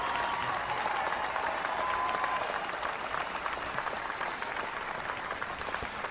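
Continuous crowd applause, a dense steady patter of clapping that holds at a moderate level throughout, slightly fading toward the end.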